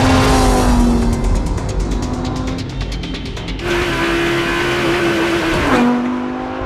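A Lamborghini Huracan LP 610-4 accelerates hard up a hill on a track, its engine note climbing through the revs, dropping at a shift and pulling again, loud and close with no talking.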